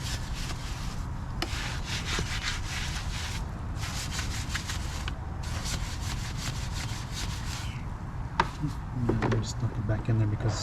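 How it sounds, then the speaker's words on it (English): A brush scrubs a car's fender well with wash soap in repeated rough, rasping strokes. It sounds close and continuous, with a few brief pauses and a faint thump near the end. "I would just go ahead and scrub the fender well with the same brush"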